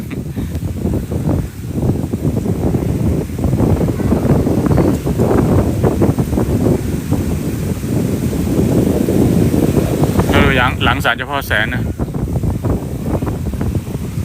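Strong wind roars and buffets the microphone continuously at Bang Saen Beach, Chonburi, with a brief muffled voice and some rustling in the middle.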